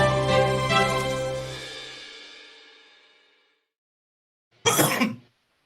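A single loud cough or throat clearing rings out and slowly fades into silence, followed a couple of seconds later by another short, sharp cough.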